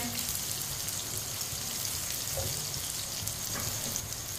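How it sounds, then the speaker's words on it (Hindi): Ridge gourd (tori) fries in a pan with a quiet, even hiss of oil and faint occasional pops, steady throughout and alone. "तोरी को 3-4 मिनट के लिए मैंने फ्राई कर लिया।"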